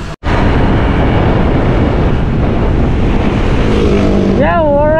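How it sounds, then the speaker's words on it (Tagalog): Honda Click 160 scooter with 14T gearing on a test drive, its engine a steady loud drone buried under heavy wind buffeting for nearly the whole stretch, with a rising tone near the end. "Rinig ko na yung motor ko."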